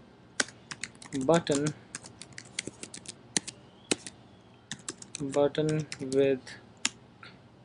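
Keys clack on a computer keyboard in scattered quick bursts and single taps, close and crisp, while someone speaks briefly between the keystrokes.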